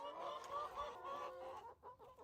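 Chickens inside a backyard coop cluck softly in a short, quiet run of overlapping calls that trail off toward the end.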